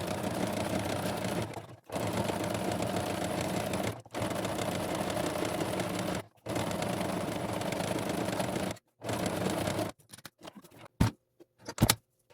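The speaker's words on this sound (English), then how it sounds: "I'm going to go ahead and just sew around the whole border." A sewing machine stitches around the border of a felt book page in long, steady runs. It stops briefly several times, then finishes with a few quiet clicks and knocks.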